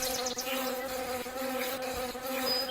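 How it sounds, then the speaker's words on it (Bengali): Mosquito buzzing from the Meena 2 video game, a continuous high whine layered over a steady tonal drone with no talk. "আবার মশাও আমাদের বিরক্ত করতেছে।"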